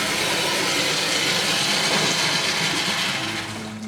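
Boiling water pours in a steady, loud broadband rush over a plate holding melting homemade chocolate Easter egg pieces, tapering off near the end.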